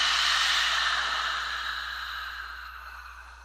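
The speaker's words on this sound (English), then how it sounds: "exhale everything out through the mouth" A slow, breathy exhale out through the mouth during a gentle yoga breathing exercise, loudest at the start and fading steadily over a few seconds, close and alone with no talk.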